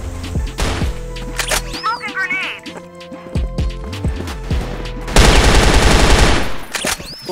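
Bursts of automatic gunfire and single shots ring out in the online shooter CrossFire, with a long rapid burst near the end and quieter game effects between.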